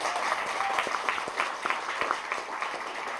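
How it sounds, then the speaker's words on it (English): Audience applause for a musician at an author event, a moderate crowd clapping with individual sharp claps audible in an irregular patter, steady throughout with no speech. "Let's have a round of applause"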